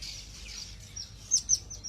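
A small bird gives a few short, high chirps against a quiet outdoor background.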